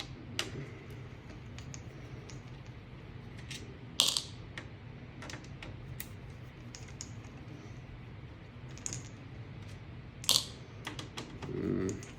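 Small screws being worked out of a Nintendo 64 console, a quiet run of light ticking and clicking from the screwdriver with a couple of sharper metallic clicks, close and alone.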